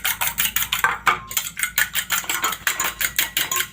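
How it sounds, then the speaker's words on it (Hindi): A fork whisks eggs in a bowl with a fast, steady rhythmic clatter of metal tapping the dish, close and bright, keeping an even beat throughout without any voices. "फॉक की मदद से हम इसको अच्छे से बीट कर लेंगे"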